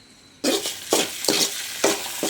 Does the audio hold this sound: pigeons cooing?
no